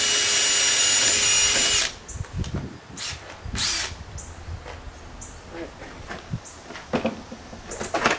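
A power drill whines loudly for about two seconds, then stops, followed by scattered clicks, knocks and handling noises.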